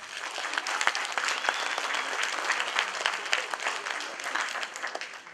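An audience at a folk-ensemble award ceremony claps steadily for a village folklore group, a dense, even wash of many hands with scattered sharper claps standing out, alone without speech.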